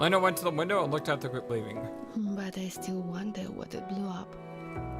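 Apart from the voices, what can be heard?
None of the usual background noises is heard.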